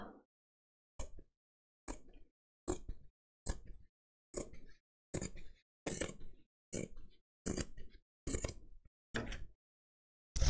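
Scissors cutting carpet snip crisply about a dozen times in a steady rhythm, each cut short and close, with silence between them.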